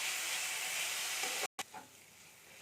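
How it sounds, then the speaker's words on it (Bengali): A potato and carrot filling with turmeric is stirred in a hot pan for a breakfast stuffed flatbread, making a steady close sizzle with a brief gap before the frying hiss resumes more softly. "এর সাথে নেড়ে এটাকে আমি একটু গ্যাস কম করে ঢাকা দিয়ে দেবো"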